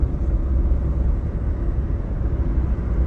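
Interior of a newly bought car on the move, a steady low rumbling road and engine drone with wind buffeting through the open rear windows, continuous and fairly loud, without speech.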